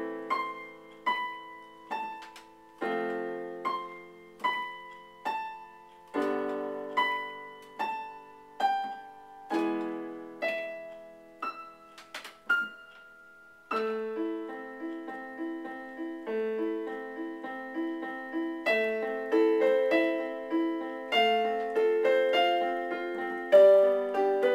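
Solo piano plays a piece from the film New Moon, starting with gentle, spaced single notes and chords that decay, then moving into a fuller, flowing accompaniment with steady arpeggiated figures.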